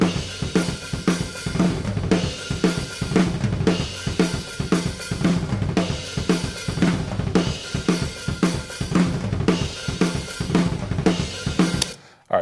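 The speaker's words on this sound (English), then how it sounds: "so spaced pair cardioid sounds like this" Full drum kit captured by a spaced pair of cardioid overhead microphones, playing a steady groove with regular kick and snare hits and bright, washing cymbals across a wide stereo spread, loud and continuous before stopping abruptly at the end.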